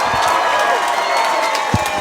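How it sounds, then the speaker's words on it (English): A boxing arena crowd cheers and claps in a steady wash of noise. Scattered shouts rise above it, and a voice briefly cuts through. "how about a round of applause for these two warriors?"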